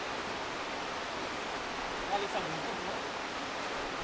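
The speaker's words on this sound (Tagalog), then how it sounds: "Yung lagaslas ng tubig." Steady rushing water of a mountain stream in the hills of Bataan, a continuous soft hiss of flowing water heard at a distance with no other sounds.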